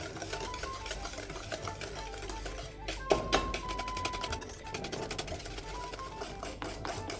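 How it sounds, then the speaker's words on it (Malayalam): Eggs and sugar being whisked with a hand beater for a simple egg snack, a steady rapid rattling and clicking of beaters against a bowl that runs throughout, with a brief louder clatter midway. "പഞ്ചസാര ചേർത്തിട്ട് ഒരു ബീറ്റർ ഉപയോഗിച്ചിട്ട് നന്നായി ബീറ്റ് ചെയ്തെടുക്കുക"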